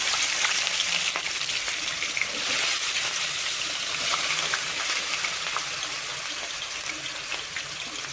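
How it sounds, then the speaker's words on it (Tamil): Bitter gourd pieces fry in hot oil with a soft, steady, bubbling sizzle that stays even and fairly quiet throughout. "எண்ணெய் சூடானதுமே ஃபர்ஸ்ட் வந்து பாவக்காய் வந்து போட்டுடலாம்."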